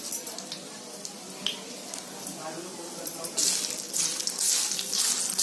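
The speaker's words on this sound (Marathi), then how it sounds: "आता या तेलामध्ये आहे ना हे आपल्याला मसाले भाजून घ्यायचे आहेत।" Whole spices roasting in hot oil for a Konkani vajri dish, crackling sizzle with sharp pops and stirring clicks, swelling louder toward the end, with some talk underneath.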